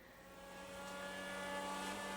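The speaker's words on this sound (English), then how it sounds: "That's a Trojan V12 right there." Trojan V12 race car engine in the GTA 5 video game, a steady droning tone with a slow rise in loudness over about two seconds, heard alone without talk.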